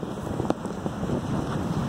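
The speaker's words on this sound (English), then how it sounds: "it's a little bit breezy down here." Wind blowing steadily at a yacht harbour waterside, buffeting the microphone with a constant rushing roar and faint lapping water beneath, no voices.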